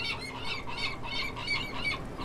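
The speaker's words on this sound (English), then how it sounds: "Some kind of birds." Repeated harsh bird squawks from the video game Memoranda, several close calls in a steady rhythm over a low background hum.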